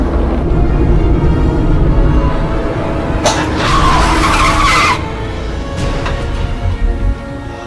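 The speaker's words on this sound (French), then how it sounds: "Perry, mais freine, là c'est rouge" Car braking hard with a loud tire skid lasting about two seconds over a steady engine rumble, followed by brief lighter squeals.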